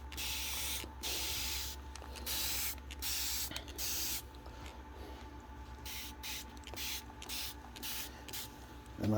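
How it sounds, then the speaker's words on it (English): Repeated short hissing bursts from a spray bottle misting worm tea onto plant stems and roots, some quick and some longer, over a steady low background rumble. "I spray the actual stems too."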